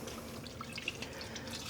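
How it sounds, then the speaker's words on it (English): A wet skein of yarn being dyed at home is squeezed by hand, letting out faint drips and trickles of soaking water at close range, soft and steady with a few small splashes. "Let's squeeze out some of the water"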